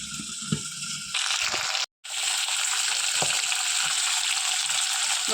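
Cluster beans (guvar) fry in oil for a Gujarati guvar potato curry, a steady close sizzle broken by a few clatters of stirring and one brief drop to silence.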